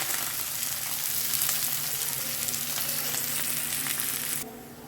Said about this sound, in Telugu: ఉల్లిపాయలు ఫ్రై అవుతున్నాయండి